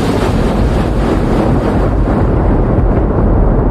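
Steady, loud rushing wind effect with a roaring, surf-like wash runs continuously through a radio weather alert segment, with no talking over it.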